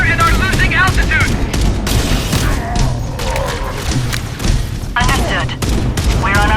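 Heavy gunfire in the video game Halo: Campaign Evolved: dense, continuous bursts of shots and booming impacts roar throughout, loud and close, with voices and chatter mixed in.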